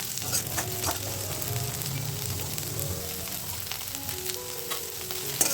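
Small shallots sauté in hot oil in a pan for onion chutney, giving a steady, moderately quiet sizzle that runs unbroken throughout with no voices.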